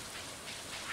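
Steady rain falls in Stardew Valley, a soft even hiss of drops that stays faint and unbroken throughout with no voices.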